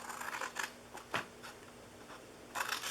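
Scissors cutting into the sides of a paper Christmas gift box, a few short crisp snips spaced apart, close and fairly quiet with no talk.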